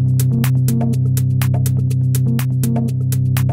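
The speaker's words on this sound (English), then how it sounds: "On the right hand channel, we've got some drums, and they sound like this" A steady synth drone with a pulsing bass line, layered with regular drum hits and bright cymbal strikes keeping a steady beat, loud and continuous.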